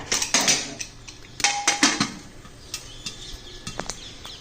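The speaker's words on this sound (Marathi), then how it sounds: "आत बघा कसं तडतडा आवाज येतोय" Sorghum grains popping in a covered cooker: scattered sharp crackles and pops, irregular and clustered in bursts, with light metallic clinks as the cooker is shaken, fairly close and without voices.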